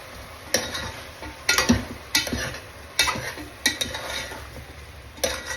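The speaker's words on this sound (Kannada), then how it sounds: "ಒಂದು 2 ನಿಮಿಷ ಇದು ಚೆನ್ನಾಗಿ ಫ್ರೈ ಆಗಲಿ" Chicken green curry with tomato fries in a pan, a soft sizzle underneath while a utensil stirs and scrapes against the metal in several distinct clanks spaced a second or so apart, close and moderately quiet without speech.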